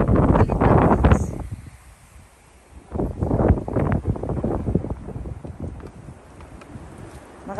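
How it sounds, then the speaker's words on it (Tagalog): Strong wind by a river buffets the microphone in rough, gusty rumbles that surge, ease off briefly, and return. "Malakas ang hangin."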